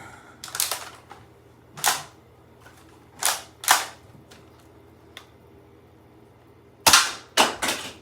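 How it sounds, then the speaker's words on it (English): A Nerf Pro Gelfire blaster fires gellets at X-Shot targets, giving sharp, snappy pops in an irregular string of about eight to ten shots, close and clear, with no speech. "I've loaded up the gellets and we're going to be using the same X-Shot targets that we use for dart blasters."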